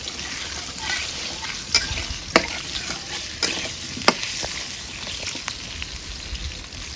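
Chicken pulao ingredients sizzle steadily in a pan after salt goes in, with sharp spatula scrapes and clinks breaking through every second or so.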